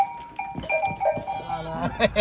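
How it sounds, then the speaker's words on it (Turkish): Sheep and lambs bleat on a farm, several calls coming one after another at close range, with a cowbell-like clink and some voices in the background. "Ötede de kuzu, kuzulu koyunlar var."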